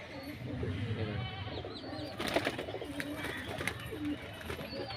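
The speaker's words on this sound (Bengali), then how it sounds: "মাদি পায়রা, সবুজ ছাতি এই পায়রাটা" A female green-breasted pigeon cooing among other pigeons, low soft coos under a busy background of bird chatter and faint wing flaps, fairly close.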